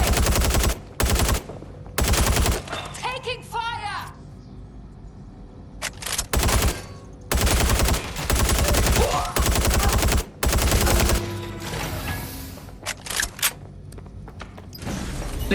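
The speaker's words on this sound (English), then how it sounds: "They're shooting! Taking fire!" Video game gunfire: repeated loud bursts of automatic fire, some long and some short, broken by brief pauses with faint mechanical clicks and rattles between volleys.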